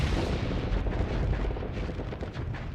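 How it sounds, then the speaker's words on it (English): Rumbling, continuous explosions from plasma torpedoes detonating in the Starsector space combat game, a dense, steady barrage of booms with no gaps, loud and close throughout. "Plasma torpedoes have done their thing."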